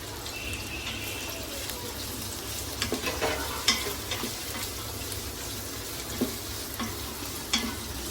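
Three green chillies sizzle steadily in hot oil in a home kitchen pan, a constant close frying hiss broken by a few sharp clicks and spatters from stirring.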